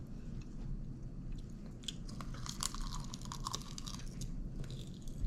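Crunchy chewing of a dish made from homegrown cucumber peppers, with close, steady bites and crisp crackles running continuously without pause.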